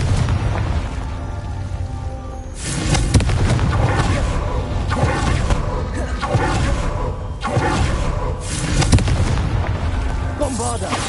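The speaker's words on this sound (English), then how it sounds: "Confringo." Repeated fiery blasts from the Confringo spell in Hogwarts Legacy, several loud booming bursts in a rough rhythm over busy combat noise, with a voice calling out.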